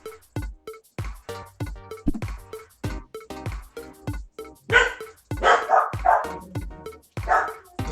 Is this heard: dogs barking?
yes